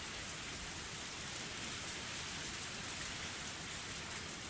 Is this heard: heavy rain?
yes